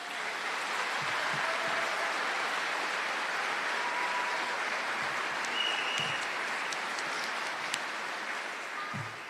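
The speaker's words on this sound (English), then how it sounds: "So would you give your students another round of applause?" Audience at a high school band concert gives a long, even round of applause, a full, steady patter of many hands filling the hall, with scattered faint whistles and no talking.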